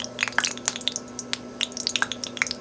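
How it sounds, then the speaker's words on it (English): Water flicked into hot canola oil heating in a pan sets off scattered sharp sizzling pops and crackles, irregular and close, over a steady low hum, with no talking. "I've got my hot oil heating up"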